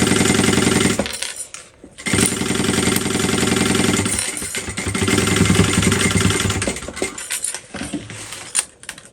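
Domestic sewing machine stitching a crossbody bag, a steady buzzing mechanical drone running in long bursts with brief pauses between seams, loud and close with no talking.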